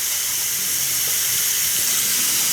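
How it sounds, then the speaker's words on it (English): Warm water runs from a tap onto a shaving brush, a steady bright hissing stream, close and loud, with no talk over it. "let's start off with a little warm water just for the brush"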